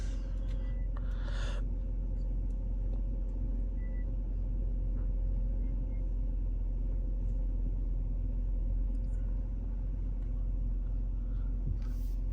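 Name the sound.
2014 Mercedes-Benz C250 engine cold start and idle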